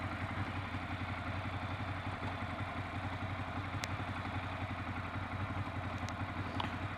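A Ducati Monster S motorcycle engine runs at a steady idle, a close, constant low rumble with even rapid pulsing and a couple of faint clicks over it.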